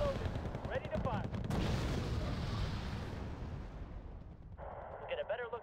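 Weapons fire in the military strategy game Wargame: Red Dragon, a heavy rumbling barrage of booming artillery-like blasts that rolls on and fades, with faint game radio chatter and voice lines over it.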